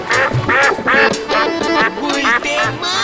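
A duck quacks repeatedly in a cartoon scene, several loud nasal calls in a quick series over about three seconds, close and clear.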